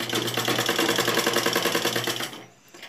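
A sewing machine stitches fabric for a collar neck in a fast, even, rapid clatter, close and steady, before winding down and stopping near the end.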